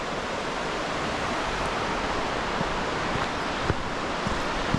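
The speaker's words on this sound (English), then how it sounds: "You can hear the waterfall from here." Panther Creek Falls in Oregon's Columbia River Gorge, heard from the trail as a constant, dense broadband rush of falling water with a few faint clicks and no voices.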